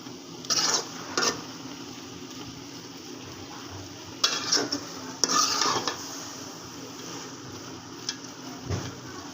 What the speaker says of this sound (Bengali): আমি আর একটু ভাজা ভাজা করে নেব।